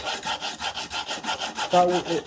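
Skinning knife parts being sanded by hand on a flat countertop: steady back-and-forth rasping strokes, close and even in rhythm, with one brief tonal squeak near the end.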